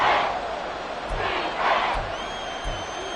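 A Madden 24 stadium crowd roars and cheers in swelling waves, loud and distant, with a few low thuds and a faint whistle-like tone near the end.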